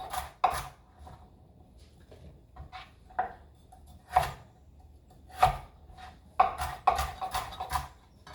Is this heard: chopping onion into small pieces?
yes